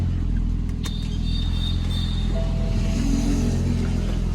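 A BMW Z4 engine idles and rumbles steadily close by, with a deep continuous drone and a slight swell near the end; there is no clear rev and no speech.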